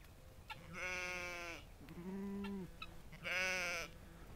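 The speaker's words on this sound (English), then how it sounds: "so that's our lambs." Lambs on a farm bleating, three distinct calls in turn, the middle one lower and the others higher and wavering, fairly close and clear, with no talk.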